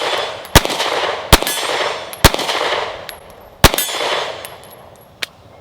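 A Sig P365XL pistol firing 124 grain rounds: five or six sharp, close shots at uneven intervals, each ringing metallically over a steady hiss of outdoor noise.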